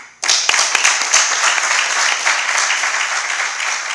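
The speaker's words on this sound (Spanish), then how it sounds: "Un aplauso." After a homeschooling talk, an audience breaks into applause that starts abruptly with a few sharp claps, then settles into a full, even roar of many hands that eases slightly toward the end.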